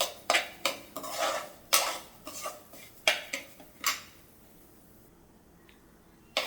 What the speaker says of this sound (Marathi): गॅसची फ्लेम मीडियम आहे आणि हलकीशी अशी रंग बदलेपर्यंत आपल्याला भाजायची आहे